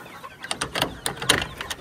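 Hens and chicks in a hot poultry shed give a brief run of short, sharp clucks, fairly close and moderately loud, in quick irregular bursts.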